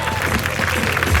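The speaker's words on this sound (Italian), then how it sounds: "Fatemi sentire l'applauso, forza" Audience applause at the final of the Miss Città Murata 2017 beauty pageant: a loud, dense, steady wash of clapping from a crowd, sustained throughout with no clear break.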